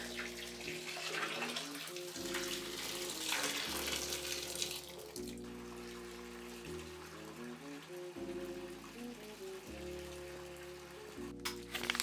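Water runs steadily from a tap into a sink or tub while bedding is being hand-dyed, a continuous hiss heard under louder background music with stepping tones.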